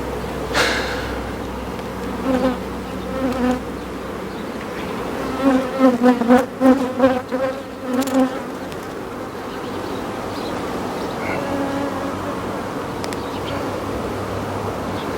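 A honeybee swarm being moved into a nucleus hive fills the air with a steady, close buzzing, with a denser cluster of louder wingbeat bursts partway through, and no talk.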